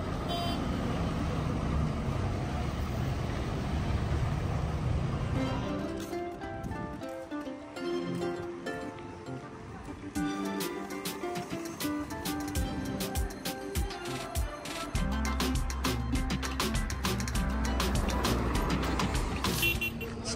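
Cars, trucks and buses move through a traffic-light junction in Hargeisa, a steady busy street rumble with engines idling and pulling away and a few horn toots scattered throughout.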